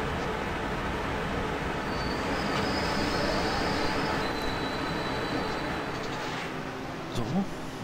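A train brakes hard approaching a station on the Köln–Düsseldorf line in Train Simulator 2012, a continuous loud rumble with high thin wheel squeal tones across the run, steady throughout.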